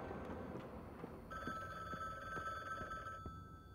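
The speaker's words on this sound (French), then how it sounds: "Mon téléphone il ressonne" In the video game The Bookwalker: Thief of Tales, a telephone rings with a faint, steady electronic trill that starts partway through and continues over a quiet, low background.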